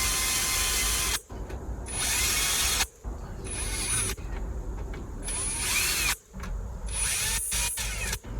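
A power drill bores out a broken injector bolt on a Skoda Superb engine in loud, close bursts of whining drilling, separated by short pauses and a few clicks, with no talk.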